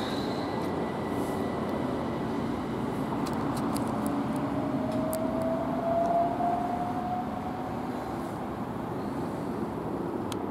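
A Southern Class 377 electric train rumbles steadily as it pulls away from Emsworth station toward Southampton Central, with a rising wheel squeal midway and faint clanks over the continuous low roar.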